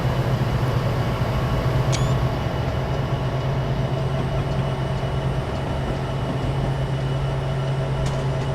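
A Santa Fe train in Train Simulator 2016, coming out of San Bernardino, rumbles past with a steady low engine drone and rail noise, continuous and fairly loud throughout.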